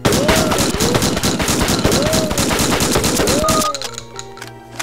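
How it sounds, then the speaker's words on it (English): Automatic shotgun from the Project MSX mod for Doom 2 fires in a fast, steady burst of loud, close blasts with mechanical cycling clicks, stopping abruptly near the end as the rattle fades. "so here's the automatic shotgun. This replaces the single-barreled shotgun."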